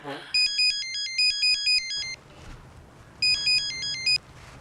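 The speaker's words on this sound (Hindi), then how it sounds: "मेरा फोन है। ओ मोबाइल।" A mobile phone ringtone chimes in two bursts of rapid, bright electronic tones, loud and close, separated by a pause with low background noise.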